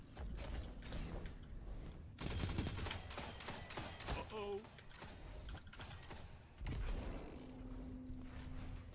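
SMG gunfire in a Destiny 2 Rumble match: bursts of rapid shots with mechanical clatter and impact sounds in busy game audio, with a voice talking over it at times.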